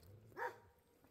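A single short dog bark sounds from one of many dogs kept on a rural property, moderately distant and standing alone against quiet background.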